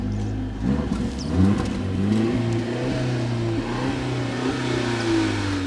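A 2020 Mercedes GLC petrol engine revs up and holds, rising and falling in pitch with a rough, strained drone close by.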